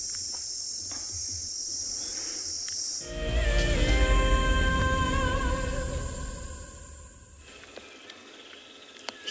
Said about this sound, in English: Nothing quite says the sound of the African bush like those cicadas humming their tune.